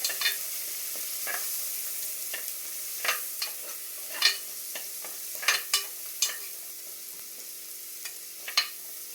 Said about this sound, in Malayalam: ഇനി ചതച്ച് വെച്ച മിക്സ് ഇട്ട് കൊടുക്കാം.